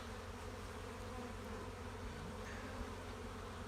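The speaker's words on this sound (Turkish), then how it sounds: "polen getiren arılar var" Honeybees buzz at an open beehive during an early spring inspection, some returning with pollen. The low, even drone holds steady and fairly faint throughout.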